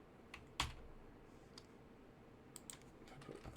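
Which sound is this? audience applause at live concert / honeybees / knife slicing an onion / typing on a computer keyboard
typing on a computer keyboard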